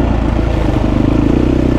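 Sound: Husqvarna 350 four-stroke enduro motorcycle engine

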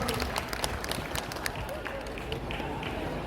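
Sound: crowd applauding at buffalo contest

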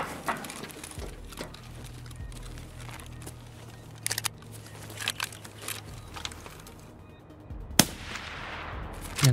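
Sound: gunfire in the video game Escape from Tarkov

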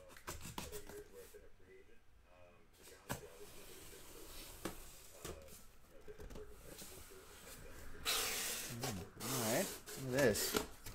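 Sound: cutting open the seal on a basketball card box

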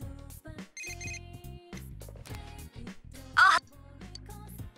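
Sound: phone ringing in video game Persona 4 Golden

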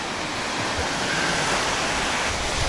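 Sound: sea waves washing in on Baltic coast

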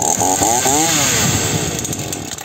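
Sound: TITAN TTL759CHN 40cc petrol chainsaw running

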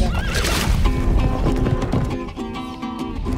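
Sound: horse neighing

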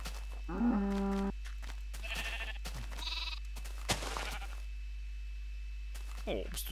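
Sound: sheep bleating in Minecraft video game

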